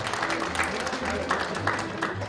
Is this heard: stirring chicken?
no